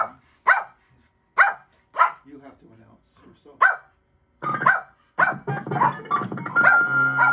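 A dog barks in bursts at an apartment house concert, with sharp woofs and growly yaps spaced out, then more frequent. People talk nearby between and over the barks.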